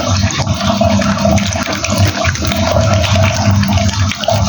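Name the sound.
washing apples under running water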